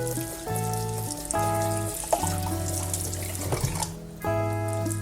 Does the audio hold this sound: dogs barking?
no